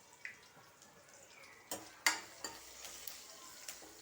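Mustard seeds and asafoetida frying in hot oil for a ridge gourd dal, quiet sizzle punctuated by several sharp pops and splutters, close but faint overall.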